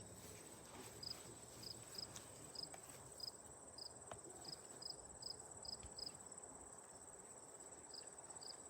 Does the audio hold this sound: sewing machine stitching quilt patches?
no